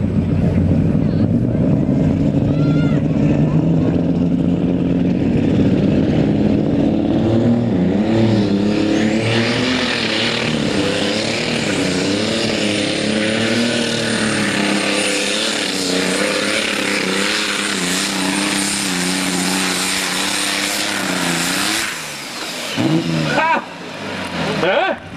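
Tractors at a tractor pulling competition roar at full throttle with a loud, continuous engine howl that rises and wavers as the pull goes on, then cuts off abruptly near the end, with an announcer speaking over it.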